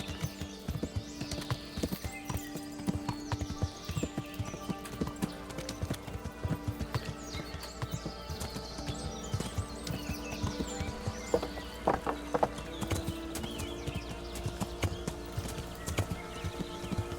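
Horse hooves clip-clop steadily as a rider travels in the video game Kingdom Come Deliverance, with a brisk, even rhythm of close, distinct hoofbeats sounding alone over a quiet background.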